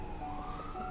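An emergency siren wails faintly in the distance behind a steady hum of background noise, a continuous rising and falling tone with no talk.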